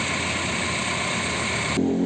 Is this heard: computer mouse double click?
no